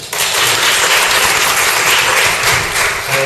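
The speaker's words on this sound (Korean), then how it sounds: "좋으면 박수 한번 쳐주세요." An audience at a church gathering claps for a few seconds in a dense, loud, sustained burst of applause with no speech over it.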